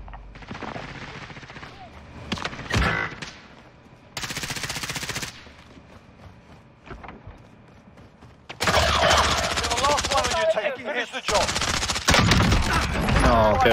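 Automatic gunfire in Call of Duty: Warzone comes in loud, dense bursts separated by quieter gaps, with a few single sharp shots and game voices in between.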